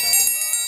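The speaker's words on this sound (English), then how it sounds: "And of course, who can forget the dinner bell?" A dinner bell rings brightly in one short burst of rapid metallic strikes, clear and close, with nothing else around it.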